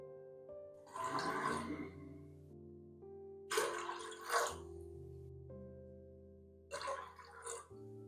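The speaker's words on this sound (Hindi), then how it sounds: "चनों को गलाने के लिए साथ इसमें डालेंगे 4 कप पानी।" Water poured into a pressure cooker of washed chickpeas in three separate pours, each a few seconds long, with soft background music between them.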